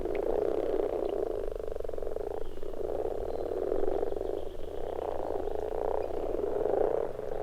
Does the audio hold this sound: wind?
no